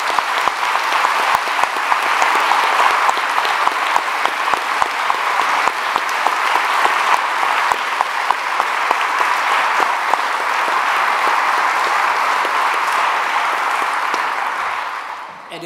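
Steady applause from a church congregation welcoming special guests at a service, dense clapping sustained loud and even for about fifteen seconds before tapering at the very end.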